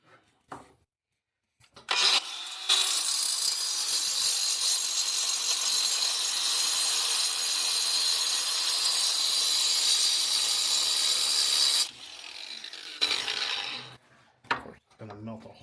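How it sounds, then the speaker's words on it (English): A power drill bores out a mismatched hole for a Kubota K008-3 mini excavator battery mount, whining steadily for about ten seconds at close range between short bumps and handling noises. "I'm going to go ahead and try to drill out the hole."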